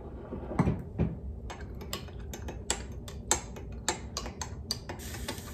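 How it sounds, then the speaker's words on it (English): Two beef bouillon cubes stirred into warm tap water, with a spoon clinking lightly and repeatedly against the side of the cup in an irregular ticking rhythm, close and fairly quiet. "I'm gonna put in 2 beef bouillon cubes and just, whoops, give them a nice stir."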